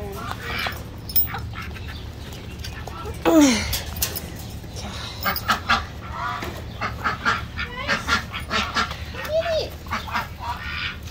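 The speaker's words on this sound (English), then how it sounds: "the duck wants some." A duck quacks several times outdoors, with short nasal calls scattered among people chatting nearby and a few other bird sounds in the background.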